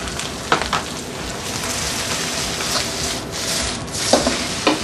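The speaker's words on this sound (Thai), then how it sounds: "ใส่ซีฟู้ดที่เราผัดเอาไว้เมื่อกี้นะครับ รวมถึงเนื้อปูของเราด้วย" Noodles with seafood and crab meat stir-fried in a hot wok over high heat give a steady, loud sizzle with crackling and occasional scraping stirs, close up throughout.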